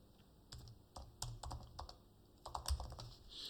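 Someone types code on a computer keyboard at close range. Soft keystrokes come in irregular clusters with short pauses between them.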